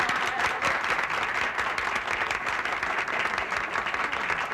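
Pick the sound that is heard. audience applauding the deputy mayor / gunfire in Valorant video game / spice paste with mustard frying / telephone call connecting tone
audience applauding the deputy mayor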